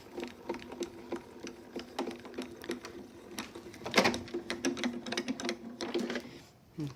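A craft die-cutting machine rolls a plate through to cut, making a steady rapid mechanical whirring and clicking with a brief louder crunch partway, while someone speaks over it.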